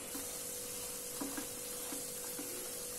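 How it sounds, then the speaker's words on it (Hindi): Onion and almond paste frying in oil in a pan, a steady low sizzle with a few soft stirring scrapes, faint and close, no talk. "प्याज के पेस्ट को हम हल्का सा ब्राउन होने तक फ्राई कर लेंगे।"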